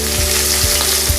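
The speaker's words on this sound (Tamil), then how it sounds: "வெங்காயம் நல்லா வதங்கிடுச்சு" Finely chopped medium onion with curry leaves fries in oil in a pan for a Chettinad-style mushroom gravy, a dense, steady close sizzle broken by a few soft stirring bumps.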